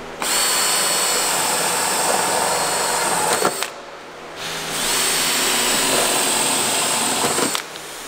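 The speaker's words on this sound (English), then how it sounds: "So now I'm gonna drill a hole right here." A power drill whirs steadily into car body metal, stopping briefly partway through before spinning up again for a second sustained run, loud and close.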